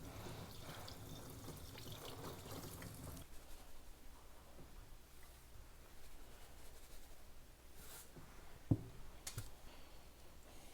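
Running water streams steadily over a raw beef tongue being rinsed in a kitchen sink, a broad wash of noise that drops away partway through, with a few sharp clicks near the end.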